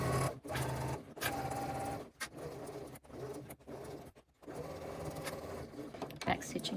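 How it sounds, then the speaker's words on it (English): A sewing machine stitches slowly around the curved flap of a crossbody bag, its steady rapid needle whir running in bursts broken by brief pauses, close and fairly quiet. "Back stitch at the start, taking it nice and slowly around those curves so you can get a nice even curve on your finished flap."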